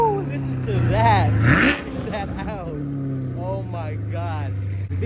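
Chevrolet C8 Corvette Z51 engine revving hard from inside the car, a loud rising roar that drops off, then settles into a steady rumble while a person talks over it.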